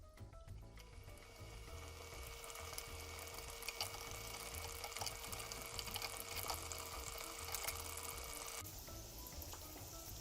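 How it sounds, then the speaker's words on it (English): Balushahi frying gently at low heat give a steady, faint bubbling sizzle with small pops that continues evenly, then eases slightly near the end. "We are going to fry the balushahi at low heat for around 15 minutes."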